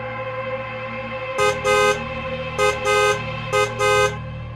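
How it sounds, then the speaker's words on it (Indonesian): Car horns honking in a tunnel in three distinct bursts, each a pair of short toots, loud and close over a steady low rumble of traffic. "kendaraan disarankan untuk membunyikan klakson sebanyak 3 kali"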